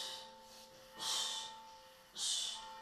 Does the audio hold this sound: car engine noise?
no